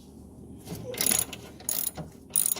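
A hand ratchet loosens the brace bolts under a C7 Corvette, giving three close bursts of rapid metallic clicking separated by short pauses, with quiet shop ambience between.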